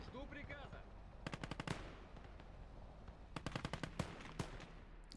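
Anti-tank rifle fire in the Gates of Hell: Ostfront war game, sharp cracks mixed with rapid bursts of battlefield gunfire in two clusters against a low rumbling background.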